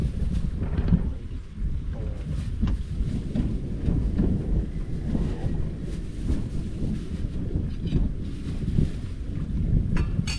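Strong wind buffets an open farm hut, a constant low roar with gusting rumble that fills the whole stretch, with no talk.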